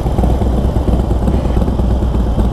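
A 1200cc Harley-Davidson Sportster Forty-Eight from 2020 rumbles loud and steady while being ridden, its deep engine throb continuous and close with no voices over it.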